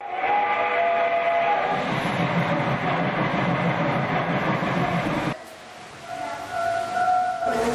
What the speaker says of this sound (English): one of the most popular attractions is the model train tracks that we have here